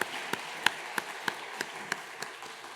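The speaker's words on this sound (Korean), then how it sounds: "박수로 한번 환영하겠습니다." Church congregation welcoming new members with sparse applause, a few distinct claps spaced at a slow, even pace and sounding faint and distant in a quiet room.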